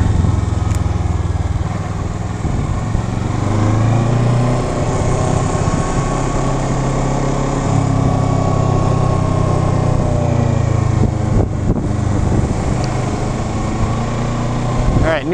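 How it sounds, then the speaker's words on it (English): Kawasaki Versys motorcycle engine braking while coasting on a winding road trip along Needles Highway, a steady droning engine note with wind noise throughout and someone talking over it. "Use a little bit of engine braking."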